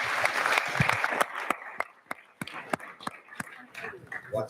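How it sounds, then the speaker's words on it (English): An audience applauds speakers at the close of a fundraising panel session, dense clapping at first that thins into scattered, sharp individual claps. "Round of applause for these guys"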